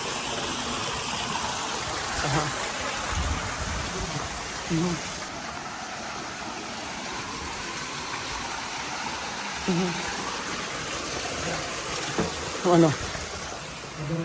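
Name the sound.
running water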